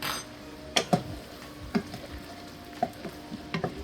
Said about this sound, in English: we're going to put about a teaspoon of cumin and get that stirred in